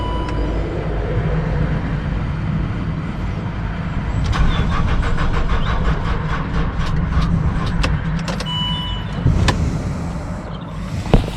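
A Land Rover engine cranks repeatedly on a low, weak battery without catching, the starter's laboured turning close and loud against steady background noise, no voices.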